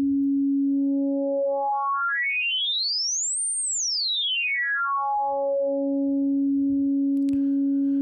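A pure synthesized sine wavetable tone with formant shift holds steady, then sweeps smoothly up to a high pitch and back down before settling on its original note.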